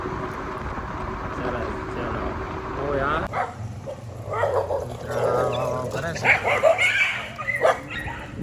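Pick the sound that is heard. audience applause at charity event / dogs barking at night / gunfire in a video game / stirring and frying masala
dogs barking at night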